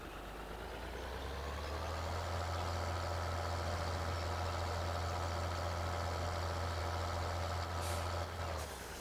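Heavy farm truck or tractor in Farming Simulator 2013 backing up, with a steady low engine drone running continuously and loud, plus brief hissing bursts near the end.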